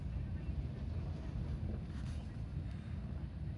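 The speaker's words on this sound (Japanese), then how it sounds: "まだエンジンかかりっぱなしだな。" A Suzuki Alto with idle-stop sits with its engine still running, giving a steady low, muffled rumble from inside the car that continues evenly throughout.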